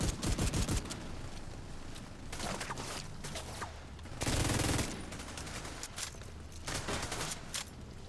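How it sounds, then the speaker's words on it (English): Assault turret gunfire in a video game: repeated loud bursts of rapid shots in close clusters, with heavier rattling bursts near the middle and end. "Hostile assault turret detected"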